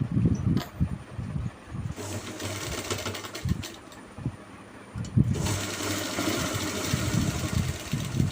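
A sewing machine stitches around a pants hem, giving a close, continuous mechanical whirring hum with brief pauses and dips in intensity and a louder stretch toward the end.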